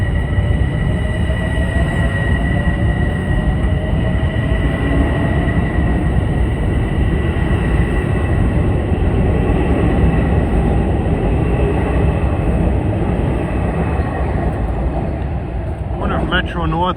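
Metro-North diesel commuter train passing on the Harlem line near Grand Central, a steady loud rumble with engine drone and tonal whine holding for the whole stretch, some rising squeal near the end.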